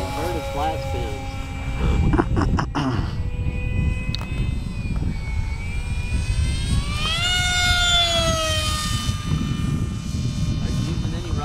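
A Parkzone F-27 Stryker RC plane whines overhead through inverted flat spins, its electric motor tone sliding up and down and swelling as it passes, with wind noise and people chatting nearby.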